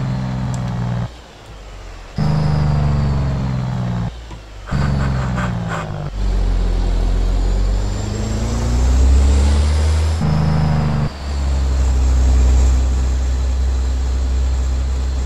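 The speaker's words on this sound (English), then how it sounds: "Let the Jakes sing." Loud, throaty rumble of a 700 hp Peterbilt 389 truck in American Truck Simulator hauling a 66,000 lb coil, with repeated engine-brake bursts that cut out briefly and swell back, deep and continuous throughout.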